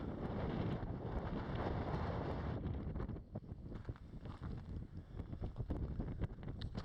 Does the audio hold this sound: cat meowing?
no